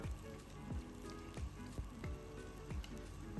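Okra and green chilies sizzle in a hot pan for a Kerala-style vendakka curry, a steady frying hiss broken by regular stirring scrapes, close and fairly quiet, with no voices.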